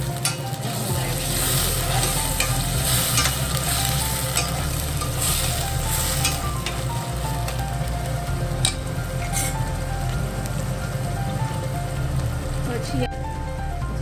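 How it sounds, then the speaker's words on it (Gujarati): Tomatoes frying with red chilli powder, coriander-cumin powder, garam masala, turmeric and salt for a winter brinjal dish, giving a steady, close sizzle with stirring scrapes throughout and a short clatter near the end. "પછી એને બરાબર હલાવીને થોડી વાર શેકાવા દઈશું સરસ"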